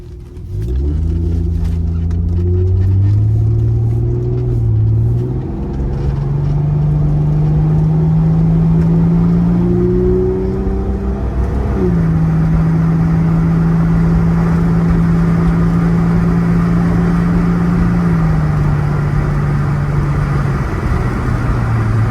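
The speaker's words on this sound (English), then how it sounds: "we're going to take the 1999 Plymouth Prowler out for a drive just so you can get an idea how it is behind the wheel" 1999 Plymouth Prowler with a 3.5 liter V6 and four-speed automatic, driving with a close, loud engine drone that climbs in pitch through gear changes and settles into a steady cruise.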